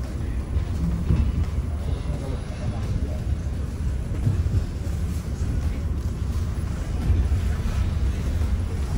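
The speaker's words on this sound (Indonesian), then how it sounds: "Kereta berangkat." Steady low rumble of a departing train rolling along in Moscow, with continuous broadband noise and faint voices mixed in throughout.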